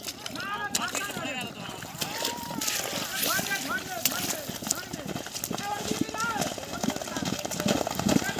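Horses race at a rural horse-racing ground, rapid hoofbeats rumbling past amid a noisy crowd and continuous talking, with a steady windy background.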